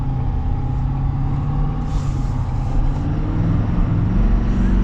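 A 2024 Ford Super Duty single cab pickup truck accelerates hard, its engine a loud, steady low roar that holds throughout with no voices over it.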